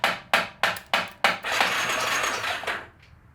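Metallic taps on the starter of a Yamaha Warrior 350 ATV: four sharp hits in quick succession, then a sustained harsh rush of noise for about a second and a half that cuts off abruptly.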